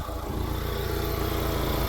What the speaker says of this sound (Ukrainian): Чуєте наш двигунчик, як працює